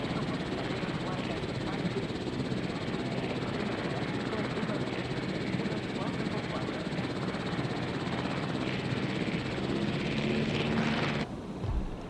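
A transport helicopter flying steadily with a continuous rotor and engine roar, loud and sustained throughout, cutting off abruptly near the end.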